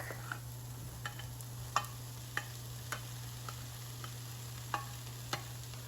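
Ground beef and eggplant cook together in one pan, a quiet even sizzle over a steady low hum, with a string of sharp spoon taps and scrapes spaced every half second or so as it is stirred.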